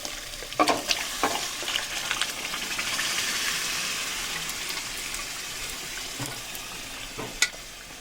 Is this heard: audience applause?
no